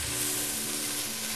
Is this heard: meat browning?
yes